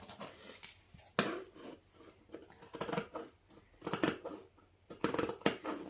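Scissors cutting along folded fabric for homemade baby leggings, with a series of quiet, close snips and crisp blade slides in irregular bursts.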